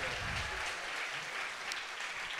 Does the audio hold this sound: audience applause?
yes